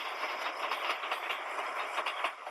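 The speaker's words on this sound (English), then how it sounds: "Or do you hop on a subway train?" A subway train runs on rails with a dense, continuous rushing roar and a faint rhythmic clatter of wheels, loud and close.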